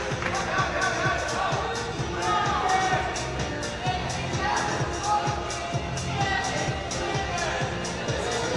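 A crowd cheering and calling out at an ice climbing competition final in Sunderland, UK, a lively hubbub of voices with claps and shouts, a commentator talking over it.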